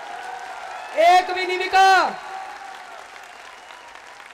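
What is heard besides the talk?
crowd applause at rally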